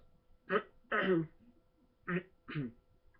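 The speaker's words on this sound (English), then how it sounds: "Clearing my throat." Four short, raspy throat-clearing bursts, close and distinct, separated by brief pauses in an otherwise quiet room.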